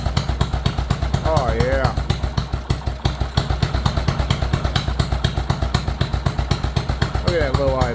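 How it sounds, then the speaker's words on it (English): Loud, close, low idle from a Bolens 38-inch lawn tractor engine, an even rapid thumping pulse throughout, with a short spoken exclamation on top. "Look at that low idle. I like that low idle."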